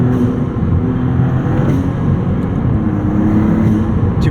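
Maserati MC20 mid-engine supercar with twin turbos, a loud, steady engine drone heard from inside the car as it drives, holding level without clear rev changes.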